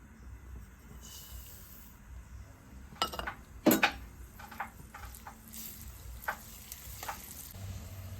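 Sesame seeds frying in hot oil in a pan while making a spicy tomato chutney, a soft steady sizzle with a few sharp clinks and stirring knocks of a utensil against the pan.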